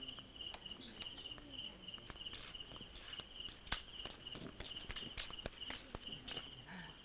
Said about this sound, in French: nous irons de village en village dans le perpétuel chant des cigales